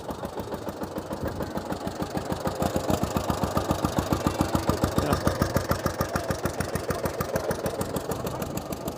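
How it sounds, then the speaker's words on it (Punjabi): A roughly 100-year-old antique tractor engine runs steadily, turning a pulley for a thresher, a rapid even chugging thump that holds for the whole stretch without pause. "ਹੋ ਗਿਆ ਨਾ ਨਿਕਾ ਟਰੈਕਟਰ ਸਟਾਰਟ"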